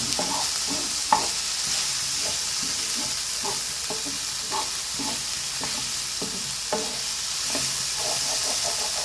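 Boiled mutton pieces frying in a pan for mutton pepper masala, with a constant crackling sizzle under repeated stirring clicks and scrapes from a utensil.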